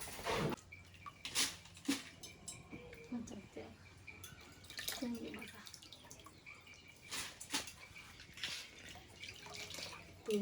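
Running water splashes while something is rinsed and washed outdoors, with irregular close splashes and pours throughout and a voice talking intermittently over it.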